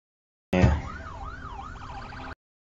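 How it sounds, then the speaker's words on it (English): An ambulance siren in the video game The Last of Us wails with a rising and falling pitch for nearly two seconds, moderately loud and alone after a short thump at the start. "Ambulance."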